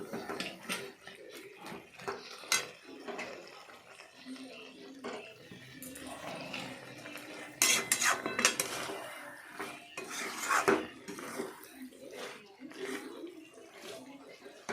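Soybean curry being stirred in a pan, with scattered metallic spoon scrapes and clinks against the pot alongside a steady sizzle and occasional speech.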